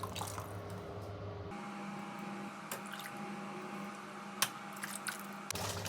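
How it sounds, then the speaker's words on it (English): Juices drip and squish softly while a raw Thanksgiving turkey is basted, a faint run of small wet splashes and taps scattered over a quiet background hum. "So we're just basting this turkey."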